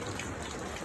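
Rain falling outdoors, a brief steady hiss of droplets striking surfaces, moderately loud and uniform with no voices.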